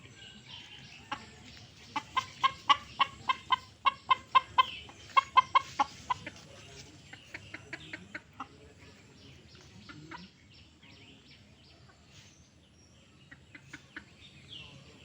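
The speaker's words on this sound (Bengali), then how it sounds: "মুরগি" A chicken clucks repeatedly near a village home, rapid bursts of sharp clucks coming in runs with short pauses between them.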